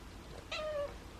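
A feral cat gives one short, clear meow at moderate loudness, close by, against a quiet room background before a meal of Stella and Chewy's chicken nuggets.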